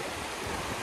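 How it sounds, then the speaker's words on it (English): A high river rushing along a hiking trail, producing a steady, dense roar of water that holds at a moderate level throughout, with no voices. "the river is so high"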